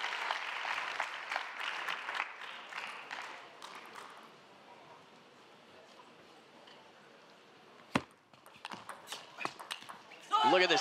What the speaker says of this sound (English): Crowd clapping and happy to see it.